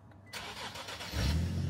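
A Nissan G35 fitted with a swapped VHR engine cranks and catches, settling into a loud, close, rumbling idle after about a second of starter whirr, with no talking.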